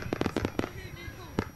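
Hanabi fireworks at a Japanese matsuri festival going off in a quick cluster of sharp bangs and crackles, then a pause and one more burst, with faint crowd voices and a whistling tone in between.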